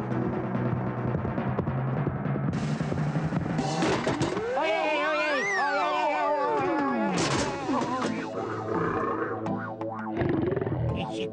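A cat meows and caterwauls with long rising and falling cries, loud and close, over busy background sound with voices and music.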